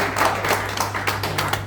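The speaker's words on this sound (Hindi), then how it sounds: "एक बार जोरदार तालियां बजा दीजिए" An audience claps loudly and continuously for a moment, a dense roll of hand claps over a steady low hum.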